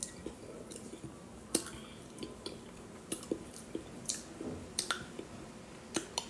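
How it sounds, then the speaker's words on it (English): A person chewing and swallowing food close to the mic, with soft wet squishes and scattered clicky bites and smacks at irregular intervals. "I'm just chewing and swallowing, y'all."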